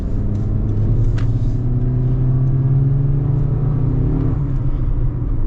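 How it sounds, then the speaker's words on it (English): A 2025 Honda CR-V accelerating, heard from inside the cabin as a steady, loud engine drone and road rumble that swells as the revs climb, then eases slightly near the end, with no talking. "I'm gonna get another acceleration here."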